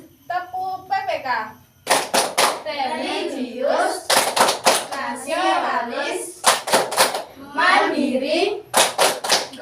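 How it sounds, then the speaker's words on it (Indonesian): Grade-four schoolchildren in a classroom perform the rhythmic PPK clapping chant: quick bursts of sharp group claps alternate with the children chanting words together in bright, young voices. The claps are loud and close, repeating in a steady pattern throughout. "mari kita tepuk PPK dan salam PPK terlebih dahulu"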